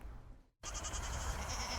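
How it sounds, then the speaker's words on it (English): Goats from a working grazing herd clearing weeds bleat in a repeated, wavering chorus after a brief gap, fairly close and clear over outdoor background noise. "These 200 goats are clearing pesky weeds"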